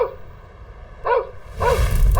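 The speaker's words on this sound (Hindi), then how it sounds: "तभी एक कुत्ता भौं भौं कर रहा था।" A cartoon dog barks twice, two short, loud, clipped barks spaced about half a second apart, set over a steady background music bed with no talking.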